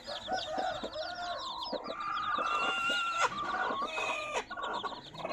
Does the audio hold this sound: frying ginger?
no